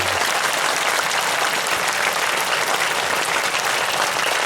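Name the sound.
crowd applause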